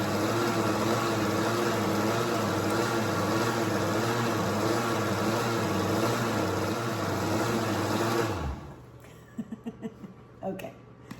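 A countertop blender whirs at medium-high to high speed, mixing buttermilk coconut pie filling as a loud, steady drone, then cuts off abruptly, leaving a few light knocks afterward.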